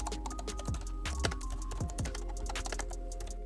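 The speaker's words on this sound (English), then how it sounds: "Because this keyboard has scissor switch keys, this reduces the noise while typing." Steady typing on a Jelly Comb KE68 ergonomic wireless keyboard with low-profile scissor-switch keys, producing quiet, rapid, muted key taps in a continuous run, soft and close.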